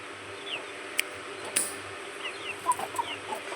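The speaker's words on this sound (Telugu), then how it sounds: "చాలా అంటే చాలా మంచిదన్న కోడిపిల్ల" A young chicken weighing about 1.5–2 kg, active and aggressive, makes a few faint, brief clucks and chirps against a soft farmyard background.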